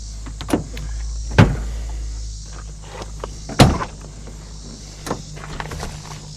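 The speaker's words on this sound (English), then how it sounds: "I'm gonna open the back doors for you" The back doors of a Thor Scope camper van swing open, giving a few sharp latch clicks and thunks spaced several seconds apart over a low steady hum.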